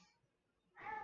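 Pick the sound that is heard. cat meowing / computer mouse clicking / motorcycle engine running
cat meowing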